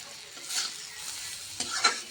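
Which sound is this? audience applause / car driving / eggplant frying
eggplant frying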